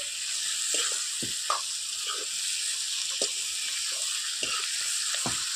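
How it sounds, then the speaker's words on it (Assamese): Duck meat frying in oil in a pan, an even, steady sizzle with scattered soft pops and occasional scrapes of a stirring utensil, close and moderately loud. "অলপ টাইম ভাজি লম মই এইখিনি হাঁহ মাংসখিনি"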